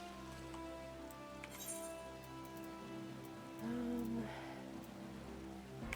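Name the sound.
rain falling in the video game Final Fantasy XIV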